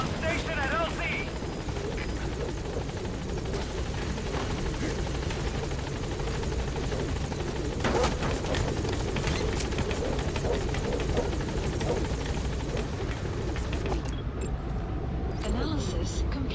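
B-Quad support helicopter arriving at a landing zone in Metal Gear Solid V, a loud steady rotor and turbine roar throughout, with a radio voice and other talk over it.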